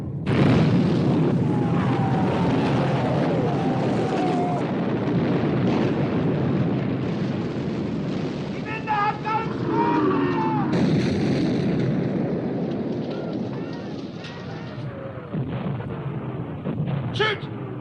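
Battleship naval guns fire in a wartime film sea battle around the Bismarck, heavy booms and rumbling blasts rolling over one another, loud and dense, with whistling shells and shouted voices mixed in.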